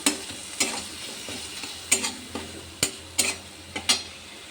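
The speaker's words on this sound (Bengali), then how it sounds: "টমেটো বাটা, এটাকে ভালো করে এবার কষিয়ে নেব।" Tomato paste with ground cumin, coriander, Kashmiri chilli powder and a little crushed garlic sautéing in a pan; a steady low sizzle is broken by sharp spatula scrapes at irregular intervals, close by and with no voices.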